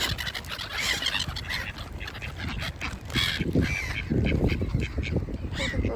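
Geese and ducks honk and quack in a busy, overlapping chorus, close by, with scattered rustling and movement throughout.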